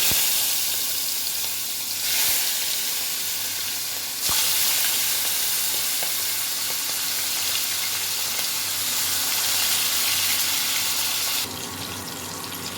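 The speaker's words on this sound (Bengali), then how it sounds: "প্রথমে আমি চিংড়ি মাছগুলো ভেজে নেব।" Prawns frying in hot oil in a wok for an aloo chingri dum, a steady loud sizzle and spatter running throughout with occasional stirring clicks and no talking.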